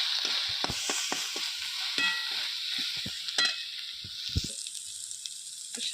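Meat with red chilli powder and meat masala fries in a pan, giving a bright, steady sizzle broken by repeated close spatula strokes and scrapes as it is stirred.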